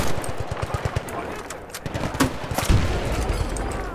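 Rapid automatic gunfire and scattered shots in the Battlefield 2 video game, a busy firefight with bursts close by and farther off, continuing steadily with a heavier boom near the end.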